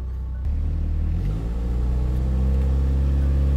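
A car engine pulling away in first gear as a learner driver eases off the clutch, a low steady rumble that steps up and swells into a firmer, rising drone, close and continuous with no talking.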